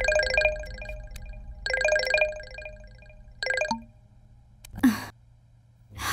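A phone rings for an incoming call, three bursts of a bright electronic ringtone with pauses between them, followed by a soft plop and a brief breath.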